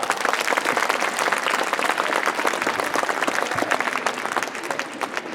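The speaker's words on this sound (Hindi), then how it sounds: "चलिए आप सभी के लिए ताली मारें।" A college festival audience breaks into sustained applause, with dense, even clapping throughout and a few scattered voices underneath.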